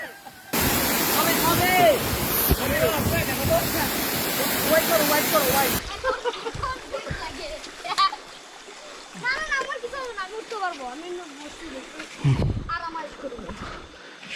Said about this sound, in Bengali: আমরা ঝর্ণার কাছাকাছি